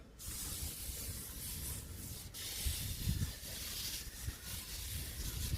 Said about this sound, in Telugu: వంగ మొక్కలకు కూడా స్ప్రే చేద్దాము